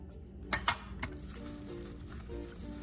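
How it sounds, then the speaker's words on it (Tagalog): A spoon clinks against a bowl while a marinade of soy sauce, calamansi juice, garlic and black pepper is mixed, three quick bright taps followed by quiet faint stirring. "Mix natin yung soy sauce."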